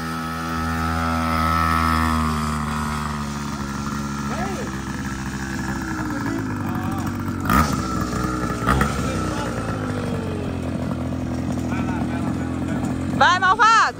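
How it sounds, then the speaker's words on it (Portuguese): A small racing motorcycle engine runs as it rides, a steady buzzing drone that rises and dips in pitch, with children and adults talking and calling out over it throughout. "Vai fundir a motinha"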